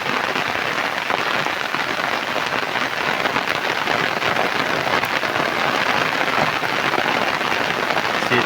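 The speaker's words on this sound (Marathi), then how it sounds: "पण पाऊस अजून काही जायला तयार नाही" Heavy rain falls steadily over a farm field where bullocks graze, a dense, even roar of drops without any voices.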